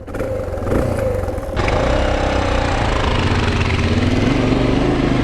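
A Honda XR650L adventure-build motorcycle with a 14-tooth sprocket rides a dirt trail. Its single-cylinder engine drones steadily and loudly close by, over rough clattering from the terrain, with a brief shift in tone early on.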